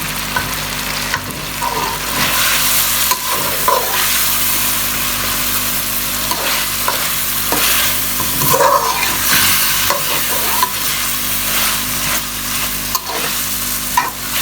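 Capsicum and cabbage stir-fry in a hot pan for spaghetti chow mein, a loud, steady sizzle broken by repeated scraping stirs of the spatula, with no talking.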